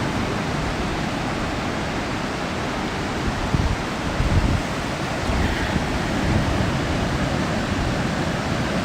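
Ocean waves break onto sand on a beach at sunrise, a continuous broad roar of surf with some wind mixed in. The wash swells slightly now and then but never pauses.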